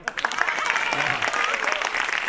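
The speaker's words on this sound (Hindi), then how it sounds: "अरे ताली बजा यार।" Brief burst of clapping from a comedy-show audience, dense and lively for a couple of seconds with some voices over it.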